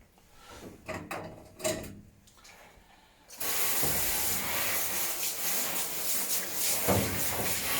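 A grooming tub being rinsed with a handheld water sprayer, with quieter handling and rubbing sounds at first, then a loud, steady rush of spray that continues to the end.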